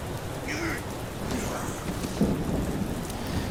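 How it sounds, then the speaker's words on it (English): Steady rain hiss with a faint low rumble underneath, quiet and continuous, with a couple of brief higher tones drifting over it. "It's always raining."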